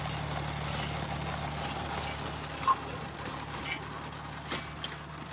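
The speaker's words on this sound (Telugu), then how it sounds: "చూడండి మనకి భూమిలో ఏ విధంగా కలుపుతుందో ట్రాక్టర్ వెనుక అటాచ్మెంట్." A tractor with a rotavator attachment tills green manure into farm soil, giving a steady low engine drone with a few soft knocks and clatters on top, and no talking.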